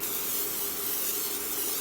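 A steady, close hiss of spray runs continuously without pause, bright and airy, with no voices.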